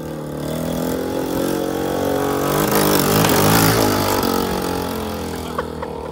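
Turbocharged moped engine running hard during a ride, a loud continuous motor drone that swells and revs up midway before settling back, close and steady throughout.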